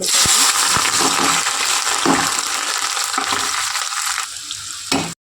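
Cauliflower and potato pieces fry in hot oil with mustard seeds, a loud, steady sizzle with stirring clatter throughout that eases toward the end, with no voices.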